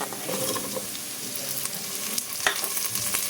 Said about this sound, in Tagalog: Ilagay na po natin ang pritong tokwa.